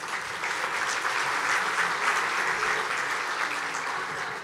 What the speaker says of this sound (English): Round of applause for all of you for making that video happen.